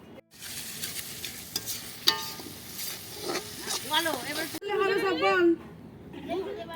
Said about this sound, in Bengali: ফুলকো ফুলকো লুচি ভাজা হচ্ছে